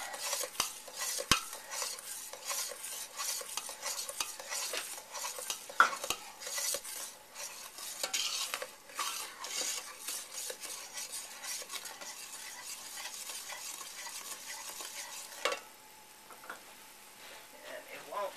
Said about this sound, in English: Okay, sugar is about melted.